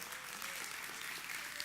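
A church congregation applauds God during a worship service, a faint, even wash of clapping heard from a distance with no voices over it.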